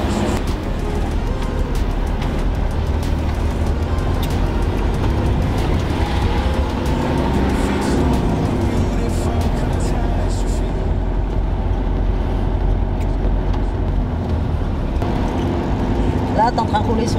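A 4x4 off-road vehicle drives on sand along an Albanian coastal track, its engine and tyres making a loud continuous rumble inside the cabin, with people talking over it throughout.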